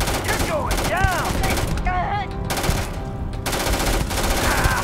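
Rapid gunfire crackles through a firefight in Starfield, dense loud bursts with brief pauses, mixed with whistling sci-fi weapon sounds and talk over the shooting.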